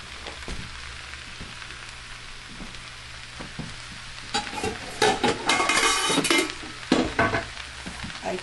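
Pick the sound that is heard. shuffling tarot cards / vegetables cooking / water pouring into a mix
vegetables cooking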